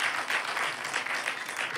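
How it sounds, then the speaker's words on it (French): A live stand-up comedy crowd in Québec applauds in a short, steady burst of massed clapping, fairly close and even throughout, with no talk over it. "Qui a des enfants ici? Par applaudissement."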